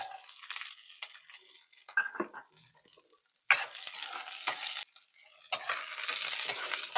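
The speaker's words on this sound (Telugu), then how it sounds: "అయిపోయింది పోపు ఎర్రగా వేగిపోయింది" Spices, cashews and curry leaves crackle and sizzle in hot oil as a tempering, with a spoon stirring and scraping the pan in bursts; no voices.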